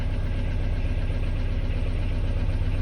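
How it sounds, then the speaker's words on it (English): A VW T4 van engine idles steadily, a loud low rhythmic chug with even pulsing and no revving across the short stretch. "we're going to start the van up"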